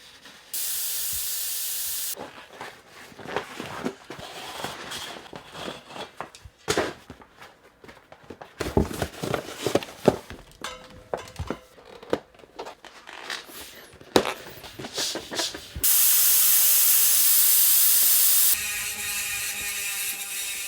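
A rapid mechanical clicking buzz from an electric mountain bike's Superdrive rear hub freewheel rises and falls in bursts, with some rattling and hissing, loud and close.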